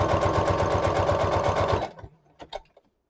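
A sewing machine runs a long straight stitch on a fabric journal cover, whirring in a fast, steady rhythm up close, then stopping abruptly, followed by a few faint clicks and handling sounds.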